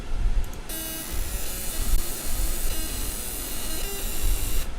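A laser engraver controlled with EZCAD2 marks text on a curved part: a close, steady fan hiss broken by short buzzing tonal bursts as the laser fires in several passes.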